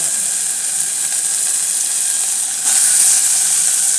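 Ginger garlic paste frying with onions in a pan for a radish curry: a loud, steady, close hiss of sizzling that brightens briefly near the end, with no talking.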